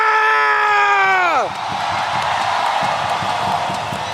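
An Indonesian esports crowd at a Mobile Legends M7 knockout match roars loudly: a long, sustained, rising scream that falls away into broad, steady cheering and clapping.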